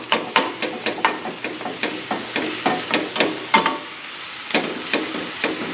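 Ginger, onion and garlic frying in a pan on a big burner while being stirred, with steady sizzling under a quick run of scraping utensil strokes that fades briefly and then resumes; no voices.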